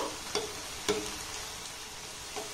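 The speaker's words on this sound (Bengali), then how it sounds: "গ্যাসের ফ্লেমটাকে একদম লো রেখে কিন্তু এগুলোকে ভেজে নেবেন" Thin flatbread pieces made from egg and flour dough fry in oil over a low gas flame, giving a steady, close sizzle broken by a few light taps.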